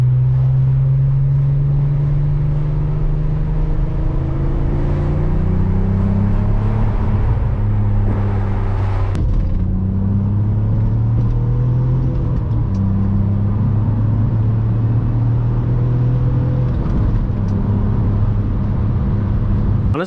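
A Nissan R32 engine and exhaust rev up and fall back repeatedly for about twenty seconds with a loud, droning exhaust note that climbs and settles, heard close up.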